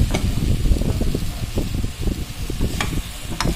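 Pork ribs sizzling and frying in a pan while being stirred, a continuous close hiss broken by repeated scraping and clattering stir strokes.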